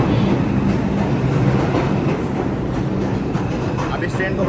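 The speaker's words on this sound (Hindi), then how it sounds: "ये ट्रेन आ गई है" A New York subway train pulls into the station, making a steady loud rumble and rattle that fills the whole stretch, with faint clatter running through it.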